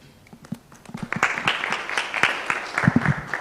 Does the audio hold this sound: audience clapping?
yes